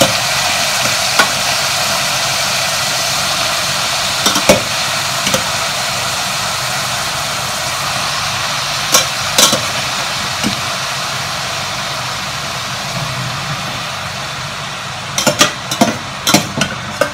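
Cooked vegetables for sambhar rice stirred in a hot pan, a steady broadband sizzle running throughout with occasional sharp clinks of a spoon against the pan, louder scraping bursts near the end.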